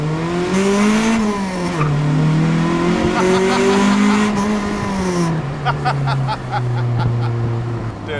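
A car engine revs hard and rises and falls in pitch with tire squeal, loud and close, continuing for several seconds without speech.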